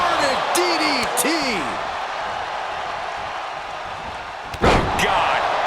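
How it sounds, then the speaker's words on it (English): A wrestling inverted DDT slam in WWE 2K25: a single heavy impact thud near the end, over steady arena crowd noise and excited commentary. "Inverted DDT!"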